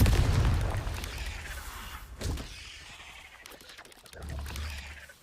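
Spell blasts from Confringo and Bombarda cast in Hogwarts Legacy, a loud burst opening, then a sharp impact about two seconds in and another booming blast near the end, over continuous game noise.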